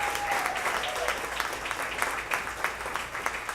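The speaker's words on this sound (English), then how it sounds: "Let's have another round of applause for Adam Clark." Crowd applause at The Nash jazz venue in Phoenix for performer Adam Clark, a full, steady burst of clapping throughout.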